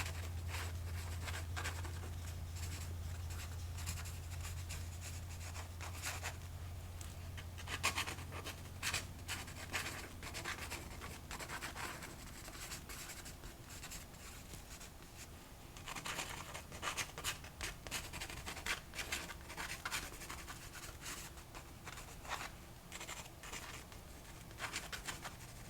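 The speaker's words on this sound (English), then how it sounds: "it's writing much better on this paper than it is on the painted surface" A pen writes on a sheet of paper for a journal page, making a long run of close, scratchy strokes in uneven bursts, with a low steady hum underneath at the start.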